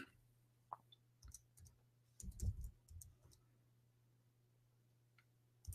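A malfunctioning computer keyboard being typed on, sparse clicks and short bursts of key taps, close and quiet, with longer pauses between irregular clusters.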